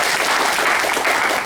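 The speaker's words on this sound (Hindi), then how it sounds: "इसके लिए जोरदार ताली हो जाए दोस्तों" An audience breaks into continuous applause at a Kangen water demonstration in a hall, a dense, steady wash of many hands clapping at close range for the whole stretch.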